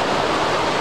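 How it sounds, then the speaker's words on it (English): Waterfall at Plitvice Lakes in Croatia, heard from the top: a steady, loud, broadband rush of falling water filling the whole moment without a break. "This waterfall from the top that we have landed."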